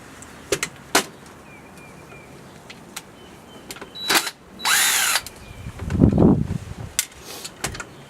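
A power drill removes screws from a Craftsman aluminum router table, heard as several short separate whirring bursts with a longer run in the middle, close and loud, plus clanks of the part being handled.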